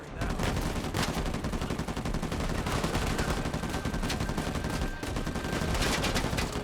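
Sustained turret gunfire in the video game Uncharted 4, a dense, loud automatic stream of rapid shots that barely pauses across the whole stretch.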